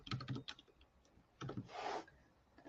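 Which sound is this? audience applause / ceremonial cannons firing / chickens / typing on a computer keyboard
typing on a computer keyboard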